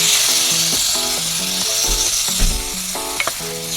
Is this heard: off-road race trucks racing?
no